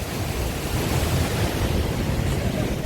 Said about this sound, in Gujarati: આવા સરસ મોટા મોટા મોજા મારેલા જો હોય દરિયો